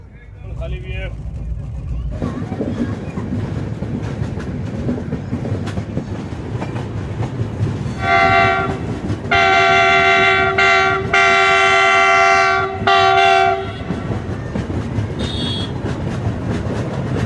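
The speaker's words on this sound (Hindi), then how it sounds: "सो लोकोमोटिव को यहाँ से रिवर्स किया जा रहा है, कुछ इस तरह से लोकोमोटिव रिवर्स किया जाता है।" An Indian Railways WAP-7 electric locomotive from the Vadodara shed reverses at a station on the Barauni–Ahmedabad Express, its loud multi-tone horn sounding in several blasts over steady rail rumble and station bustle.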